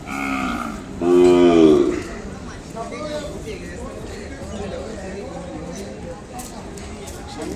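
A cow gives a couple of loud, drawn-out moos at the start, followed by quieter barnyard noise and people talking nearby at the Kodada cattle market in India.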